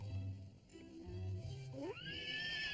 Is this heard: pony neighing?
yes